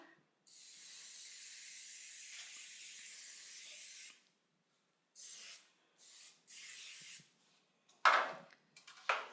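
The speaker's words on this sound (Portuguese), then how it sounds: "vou passar um desmoldante aqui na minha forma" Release spray from an aerosol can misted into a small cake pan, a long close hiss followed by three shorter bursts, then a brief knock of the pan.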